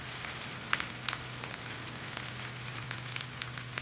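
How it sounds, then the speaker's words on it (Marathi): Ivy gourd and onion fry in oil until spotted brown, giving a steady, even sizzle with scattered sharp pops and crackles, heard alone and at moderate level. "तोंडली डाग पडेपर्यंत चांगली भाजून घेतली तेलामध्ये कांद्यासोबत."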